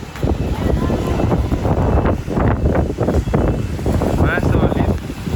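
Strong typhoon wind in Taiwan buffets the microphone in heavy, roaring gusts that rise and fall continuously, with a person talking amid the noise.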